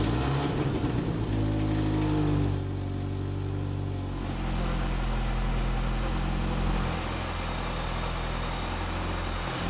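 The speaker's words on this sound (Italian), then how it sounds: "e facciamo girare il motore" A freshly rebuilt supercharged Mini Cooper S R53 engine runs steadily on its first start after the rebuild, a close, loud idle with a deep, even throb and a slight shift in note midway.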